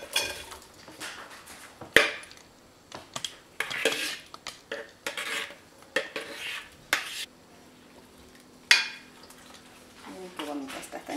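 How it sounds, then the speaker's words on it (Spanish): Apple pieces being mixed into cream in a bowl for a Christmas fruit salad, with repeated clinks and scrapes of a utensil against the dish in irregular bursts, fairly quiet and close. "Integramos bien la manzana aquí con la crema."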